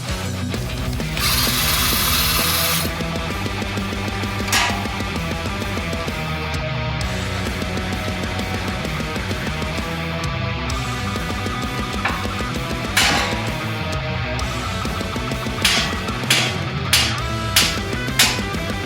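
Impact wrench hammering a tie rod nut loose on a 2008-2017 Subaru Impreza steering rack, a long continuous close rattling drone followed by several short sharp bursts near the end.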